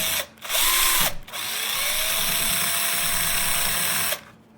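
A diamond hole saw grinds steadily through thick non-tempered aquarium glass with a loud, high squeal, stopping briefly twice and then running continuously until it winds down near the end.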